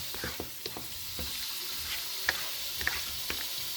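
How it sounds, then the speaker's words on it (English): Mango curry chicken sizzling and frying in a pan on low heat, a steady hiss with intermittent scraping and stirring clicks against the pan bottom, no talking. "We're going to let this cook for a few more minutes on low."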